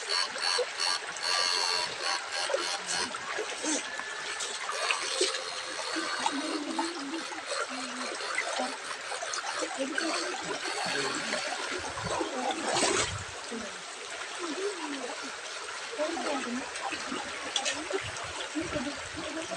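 Water splashes and trickles steadily in a shallow stream during electrofishing, with a continuous close, textured wash and occasional sharper splashes. Faint voices come and go.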